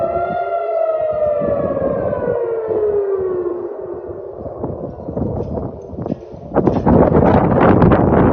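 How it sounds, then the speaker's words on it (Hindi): Civil defense air raid sirens wail across Tel Aviv in long, falling tones, heard from a distance over steady wind and rustling, with louder gusty noise near the end. "आपने देखा कि किस तरीके से तेल अवीव में सायरन की गूंज सुनाई दे रही है।"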